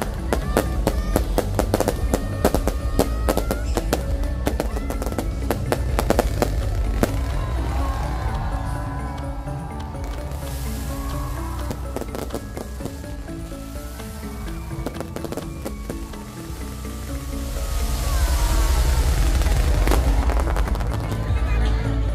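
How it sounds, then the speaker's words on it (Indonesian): A night fireworks display at a large festival crowd in Yogyakarta, with rapid crackling bursts and booming pops in dense volleys, growing louder toward the end while a crowd murmurs underneath. "seperti inilah suasana pesta kembang api pada malam hari ini"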